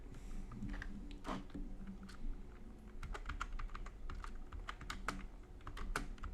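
Notes being typed on a computer keyboard into a document, a steady stream of close, crisp key clicks in uneven bursts over a low background hum.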